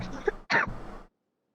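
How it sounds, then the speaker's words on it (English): A person tries to hold in a cough, giving a muffled throat-clearing sound followed by a short stifled cough burst, close and fairly quiet, ending in silence. "I was actually trying to hold in a cough."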